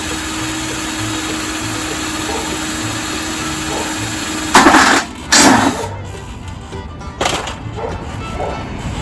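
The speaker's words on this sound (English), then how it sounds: "We're just gonna drill through it and screw it down." A power drill drives screws through overlapping fence panels, with a steady motor whine for about four seconds, then several short, loud bursts of drilling and banging up close. No one speaks.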